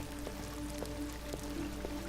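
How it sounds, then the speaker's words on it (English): Rain falling in a garden, heard as a steady soft patter with occasional distinct drips, fairly quiet and continuous with no voices. "But it is rainy here today in this garden."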